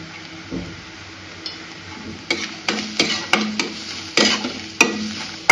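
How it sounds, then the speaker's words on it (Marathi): Spoon stirring turmeric and chili powder into frying onions in a pan: a steady low sizzle with a series of distinct scraping strokes that come faster and louder in the second half, close up, no talking. "आता या हळद आणि तिखटाला आपण व्यवस्थित मिक्स करून घेऊया"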